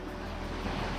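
A waterfall seen at the end of a walk in Korea, heard as a steady, dense broadband rush of falling water that stays even throughout, with some wind buffeting the microphone.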